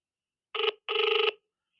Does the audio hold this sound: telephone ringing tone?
yes